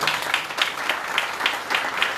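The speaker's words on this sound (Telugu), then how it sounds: "ఈ వాక్యం ద్వారా నేను దీవించబడ్డానన్న వారు దేవునికి గట్టిగా చప్పట్లు కొడతామా?" A church congregation claps loudly together during a worship service, with broad rhythmic bursts of applause that swell roughly every third of a second and fill the room without any speech.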